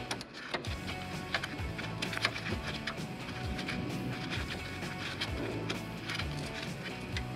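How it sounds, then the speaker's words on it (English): Allen bolts being tightened in a crisscross pattern on a coil-over strut kit for a 1979-1993 Mustang, heard as a busy run of close, small metallic clicks, ratcheting and tool rattles over a steady background. "I'm tightening these Allen bolts."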